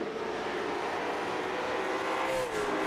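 Race cars circling the oval at New Smyrna, a steady droning roar of several engines at a distance, holding an even level throughout with a slight swell near the end as cars pass.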